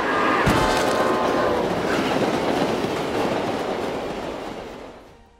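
A train rushes past with a loud rolling rumble and rhythmic clatter of wheels, opening with a sharp thump, then slowly fading away over a few seconds.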